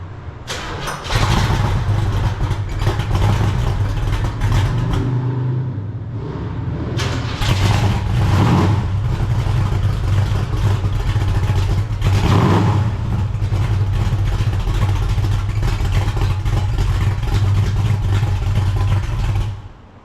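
A Stage 1 muscle car from a classic-car dealer cranks and fires up, then settles into a loud, lumpy idle close by, punctuated by a couple of sharp throttle blips and revs.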